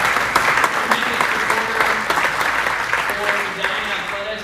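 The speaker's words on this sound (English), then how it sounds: "give him a round of applause" Steady applause from an audience at an athletics hall of fame event at Edina High School, greeting the high school principal; dense clapping that holds evenly throughout, with faint voices mixed in.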